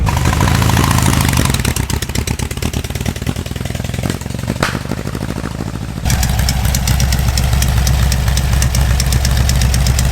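Meyers Manx VW dune buggy with its freshly installed air-cooled engine running on a drive down the road, a loud, steady low mechanical rumble with rapid firing pulses throughout, briefly dipping then picking back up.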